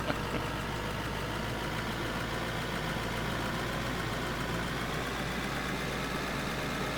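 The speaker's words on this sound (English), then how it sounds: "are the vehicle sounds new? They sound decent." Steady vehicle engine idling in the game Out of Ore, a continuous low rumble that holds evenly throughout with no talk over it.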